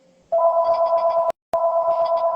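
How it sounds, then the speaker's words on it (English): Old-style answering machine or telephone sounding during a phone call, two loud, clean electronic tones separated by a short silent gap, close and alone with no talk. "That sounds like an old school answering machine."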